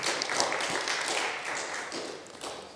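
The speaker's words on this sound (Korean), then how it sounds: "지도하신 우리 이민희 집사님도 수고했다고 박수 한번 보내주시기 바랍니다." Church congregation applauding at an Easter Sunday service, a steady, dense wash of many hands clapping at moderate volume that tapers slightly toward the end.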